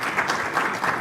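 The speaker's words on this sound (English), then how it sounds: "Round of applause for the presentation." An audience applauds after an office presentation, a steady burst of dense clapping that swells and dips slightly, with no voices over it.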